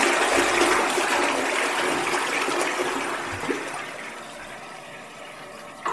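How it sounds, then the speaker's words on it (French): A toilet flushes with a loud, close rush of water that slowly fades into a gurgling refill trickle over several seconds. "cette putain de chasse d'eau n'arrivait pas à les évacuer"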